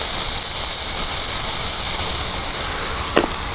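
A flipped burger patty sizzles loudly on a griddle, a dense, constant hiss with one brief scrape near the end.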